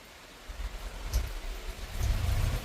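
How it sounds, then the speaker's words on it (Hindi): Heavy rain falls with strong gusting wind, a steady hiss that builds with low rumbling gusts as the downpour thickens toward the end. "इतनी तेज बारिश हो रही है।"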